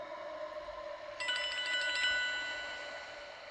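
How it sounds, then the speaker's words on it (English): A telephone begins to ring partway through, a thin bright electronic trill that sounds faint and distant and lingers for about two seconds over a quiet room. "What is that? Some phone, she says."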